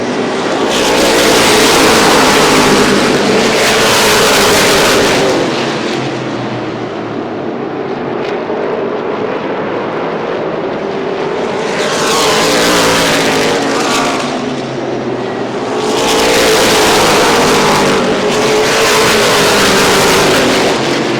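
Late model stock cars roar along a dirt oval backstretch at full throttle, their engine noise loud and continuous, rising and falling in waves as packs of cars pass close by.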